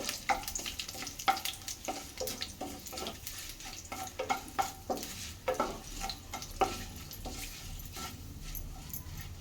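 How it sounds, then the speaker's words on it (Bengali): Dry chillies, black cumin and bay leaf frying in hot oil for a tempering, a low crackling sizzle with frequent spoon scrapes and knocks against the pan, quiet and close, no talking. "এখানে নিয়ে নিয়েছি শুকনো লঙ্কা, কালো জিরে আর তেজপাতা। ফোড়নটাকে ভালো করে ভেজে নেবো।"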